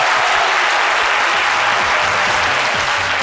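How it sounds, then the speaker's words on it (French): Studio audience applauding loudly and steadily, a dense wash of many hands clapping close by that holds at full strength from start to finish. "Merci de vous applaudir très fort"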